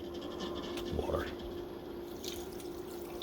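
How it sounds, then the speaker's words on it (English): Water poured into a blender holding green smoothie ingredients with oranges and ice, a soft trickling splash in a home kitchen with a voice speaking over it. "I gotta pour the water in there too."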